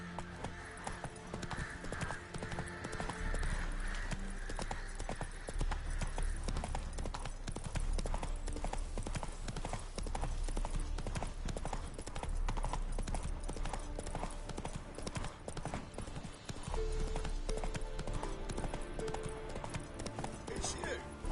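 Roach the horse gallops in The Witcher 3, with steady rhythmic hoofbeats on the ground, a brief whinny, and voices talking over the hooves throughout.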